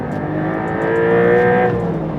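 A Porsche 992 Carrera T flat-six engine revs loud and close, a sustained rising then falling snarl with strong harmonic tones, heard alone.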